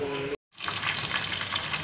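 Mustard oil heating in a pan for fish curry sizzles and hisses loudly and steadily, cutting out briefly before the frying resumes at full strength.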